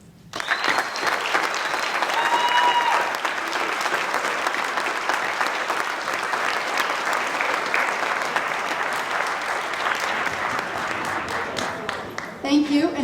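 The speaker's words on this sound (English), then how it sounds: "please join me once again in the applauding of all our new Honor Society members." An audience at a high school National Honor Society induction ceremony applauds the new members, loud sustained clapping filling the room for over ten seconds, with a few voices calling out early on.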